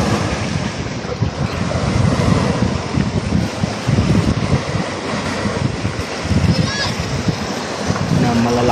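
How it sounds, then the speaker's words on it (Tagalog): Sea waves wash and splash steadily with strong wind buffeting the microphone. The surf stays loud and close throughout, with no breaks. "Pakita ko sa inyo, hindi na gano'ng malalaki ang alon."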